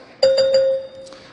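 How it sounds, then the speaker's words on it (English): A single debate timing bell at a 2016 Republican primary televised on CNN rings out clearly: a loud, pure ding that rings steadily and then fades, heard alone. "a bell will also sound like this."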